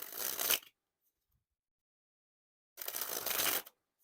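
A deck of Brown Drifters playing cards by Dan and Dave is sprung from hand to hand twice. Each spring is a close, crisp flurry of riffling card snaps lasting under a second, with silence between the two.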